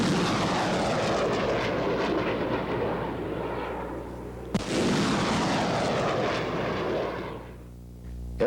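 A live multiple launch rocket system fires at White Sands Missile Range, a loud sustained roaring blast that fades, then a second sharp launch roar at mid-point that rumbles on before tailing off.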